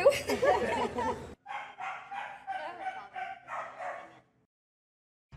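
A dog cries out on being reunited with its owner after years apart, giving a series of high whimpering yelps and howls close by, with a person speaking briefly at the start.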